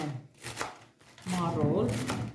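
A knife chops vegetables for tabbouleh on a cutting board in a few quiet, separate strokes, then someone talks over the last of the cuts.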